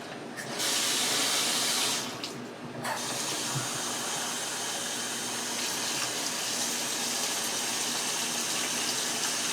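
Water running from a tap into the pot of a rice cooker while making corn vegetable rice, a steady close hiss with a brief pause near the start, alone without talk.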